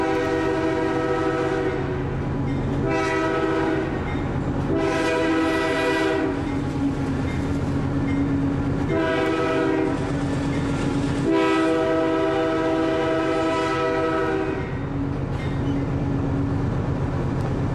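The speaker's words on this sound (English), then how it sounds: "The whistle sequence that you just heard will be used over each crossing." A freight train horn sounds a crossing whistle sequence of long blasts and a shorter one, loud and close, over the steady rumble of rolling rail cars.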